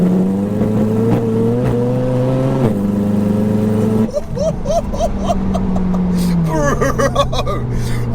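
A 900bhp front-wheel-drive Seat Leon Cupra accelerates hard, its engine note climbing through the gears with sharp upshifts and traction chatter, loud and close from inside the car.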